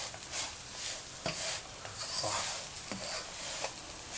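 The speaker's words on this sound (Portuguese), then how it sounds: "Agora podemos misturar." Banana farofa being stirred in a pan on the stove, a steady scraping rub with a light sizzle underneath and a few sharper scrapes of the utensil against the pan, close and moderately loud.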